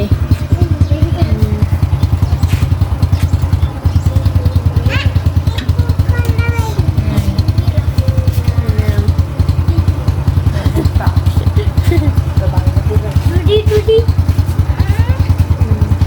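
The engine of a new motorcycle idles steadily in a home setting, a constant low rumble under voices talking nearby, with faint clatter and rattles on top.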